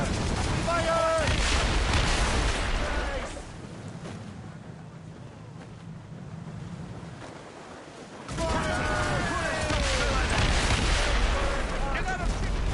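Naval cannon broadsides in the game Assassin's Creed Rogue: loud booming volleys from ship cannons, with a quieter stretch of wind and sea in the middle before another heavy barrage.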